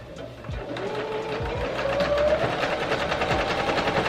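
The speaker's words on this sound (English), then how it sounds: "create a line of stitching in between the top and the line that we just sewed" A sewing machine runs a line of stitching through fabric for an off-shoulder top, a rapid, even mechanical chatter that holds steady and close for the whole stretch, with no talking.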